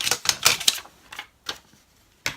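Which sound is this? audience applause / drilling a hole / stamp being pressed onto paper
stamp being pressed onto paper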